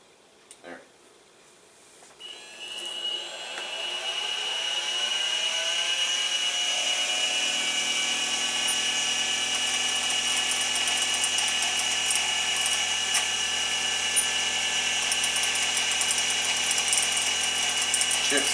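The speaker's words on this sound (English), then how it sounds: "show a little bit of the new fly cutter in action here" A homemade fly cutter spins up and cuts into metal, chips flying, with a steady whirring, ringing machining tone that builds over the first few seconds and then holds loud and continuous.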